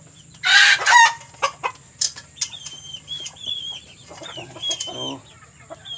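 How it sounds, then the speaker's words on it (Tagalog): Loud close chicken squawks and clucks burst out on a farm, followed by scattered clucking, light rustling and a few chirps in the background. "may mga manok tayo dito"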